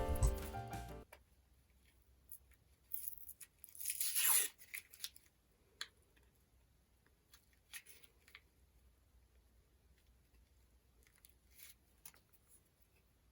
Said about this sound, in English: here's an excessively long clip of me trying to peel off the brown paper from the acrylic